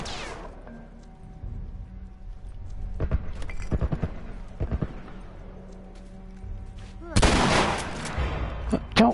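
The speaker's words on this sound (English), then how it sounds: "Such a freaking machine gun." Machine gun fire in the video game The Last of Us, with bursts of rapid gunshots and a loud, dense barrage near the end over a low game background.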